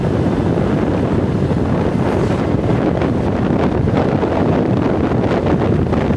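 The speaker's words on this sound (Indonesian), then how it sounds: "Angin bertiupkan dengan kesegaran di pagi hari yang begitu sangat menyejukkan." Steady morning wind blows across an open rural road between rice fields on an alternative route from Jasinga toward Rangkasbitung, a loud continuous rushing buffet against the microphone with no voices.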